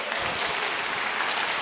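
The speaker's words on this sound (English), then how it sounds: "So give a round of applause for Jono." An audience claps for a speaker at an SEO conference talk: dense, even applause from many hands filling the room for the whole short stretch, with no voices.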